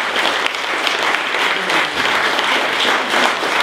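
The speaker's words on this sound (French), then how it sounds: "je vous demande un applaudissement pour M. Louis Guillermet ici présent" Sustained applause from the crowd at an inauguration ceremony for a charity's new space, dense and loud, many hands clapping evenly throughout with no voices on top.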